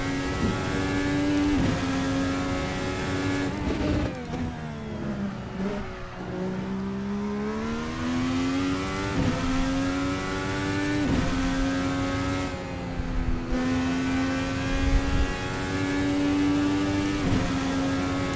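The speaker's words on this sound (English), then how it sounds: "It takes unexpectedly long for the turbo to spool up." A Dallara IR-18 IndyCar with a turbocharged engine revs and accelerates through gear changes in Assetto Corsa, its loud, steady engine drone rising in pitch and dipping at each shift, alone without talk.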